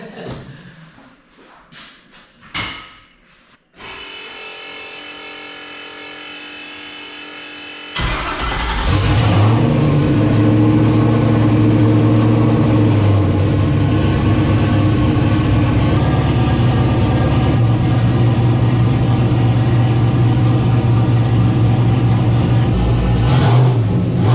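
A Ford Fairmont street car engine cranks and sputters, then catches and roars loudly, holding a steady high rev with small rises and dips throughout, exhaust blowing against a towel.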